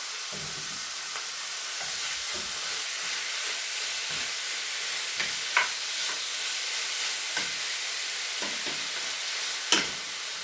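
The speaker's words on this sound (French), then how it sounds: "maintenant on rajoute le bœuf avec la marinade" Beef with its marinade sizzles steadily in a pan with lightly browned onions, a close, continuous frying hiss broken by a few sharper pops and spatters, with no talking.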